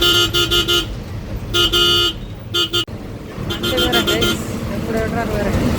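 A loud KSRTC bus horn honks in several long blasts on the Trivandrum to Nagercoil road, with traffic rumbling in the background and a voice talking between them.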